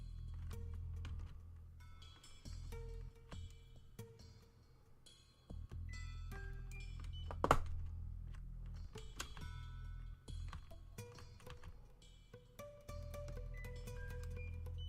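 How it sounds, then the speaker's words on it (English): Repeated electronic beeps sound in a video game, short tonal blips scattered over a steady low background hum with no speech. "Still beeping."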